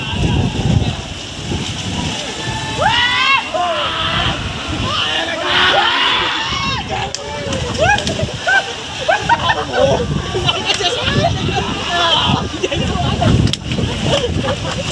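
People splash and play in the water at a large water park in Raipur, Chhattisgarh, a steady wash of splashing and sloshing with excited shouts and cries mixed throughout.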